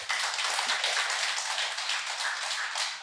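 Audience applause at a lecture, a dense, steady patter of many hands clapping for about three seconds, moderately loud and without voices.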